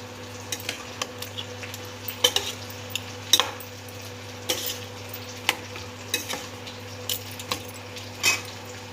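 A mustard, cumin and chilli paste is stirred in a pan over a low background hum, with repeated scraping and clinking spoon strokes at an irregular rhythm and a soft sizzle underneath.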